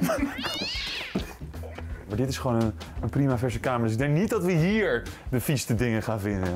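A cat in a student house meows several times, its rising and falling cries mixed in with people talking nearby in a small room.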